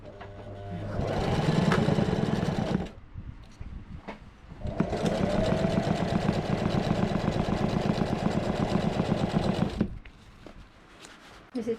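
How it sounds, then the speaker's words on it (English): A sewing machine stitches a cover for a sailboat's fuel tank in two steady motorized bursts, a short run then a longer one, loud and close with brief pauses between. "since the sewing machine is already out, we will make a cover."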